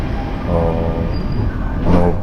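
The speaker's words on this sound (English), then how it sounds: "So when the metro arrived, I went inside and sit in the metro." Steady rumble of a metro car in motion, with a continuous low roar and faint rhythmic rattling, a swell near the end; no voices.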